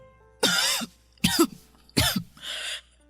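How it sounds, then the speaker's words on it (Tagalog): Three harsh, raspy coughs in a row, close and loud, followed by a breathier throat-clearing rasp, with short silent gaps between. "ang tindi ng ubo niyo."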